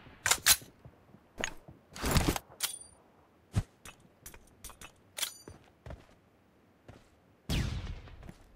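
Clicks and metallic clacks of a gun being reloaded in a team deathmatch video game, sounding as a string of short, sharp mechanical snaps spread unevenly over several seconds, with a longer rattling burst near the end.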